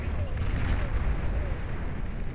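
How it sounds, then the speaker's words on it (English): Missiles slam into Fat Boy units in a Beyond All Reason 8v8 battle, a dense continuous roar of overlapping explosions and rumbling artillery-like blasts, loud and steady with a voice faintly mixed underneath. "these missiles connect with the Fat Boys"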